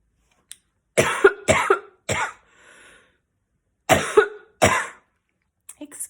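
Several harsh coughs in quick bursts, close by, with short pauses between fits and a faint throat sound near the end.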